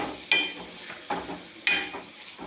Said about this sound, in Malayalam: ഈ ഒരു സമയത്ത് ഇളക്കിക്കൊണ്ടേ ഇരിക്കുക.